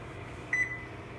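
A microwave oven timer being set gives a single short, clear electronic beep, close by, over a steady low hum from the room.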